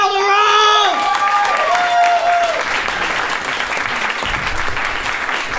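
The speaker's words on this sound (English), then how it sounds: "Clapping for your next comic coming to the stage." A comedy club audience applauds and claps as a comedian comes to the stage, a dense loud wash of clapping that starts under a host's voice and carries on alone.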